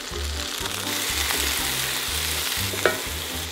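Vegetables sizzle steadily in a hot pan, a continuous close frying hiss broken by stirring scrapes and one sharp clack near the end, with no voices.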